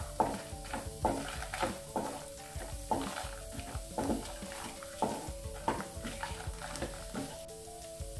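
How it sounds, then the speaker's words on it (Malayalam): Onion, dried red chili and a piece of tamarind sizzle and fry in a pan while a spoon stirs them in steady repeated scrapes, close and continuous with no talking. "ഇനി ഇത് നന്നായിട്ട് ഇളക്കി കൊടുക്കാം."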